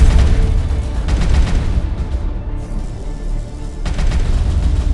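An enemy starship's special weapon fires during a Galaxy Reavers space battle, giving off a dense, loud barrage of booming blasts and rapid gunfire-like bursts that rumbles steadily throughout and briefly thins out midway.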